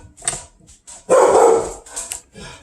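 Dogs bark in short bursts, with one loud, sustained volley in the middle and a few sharper yips around it, fairly close, indoors, reacting to someone at the door.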